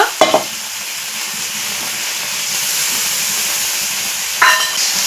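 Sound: spice paste being fried and stirred in a pan

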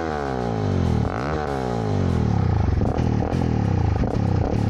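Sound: Honda CRF300L motorcycle engine revving

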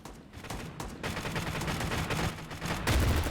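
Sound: gunfire in the video game Crowz

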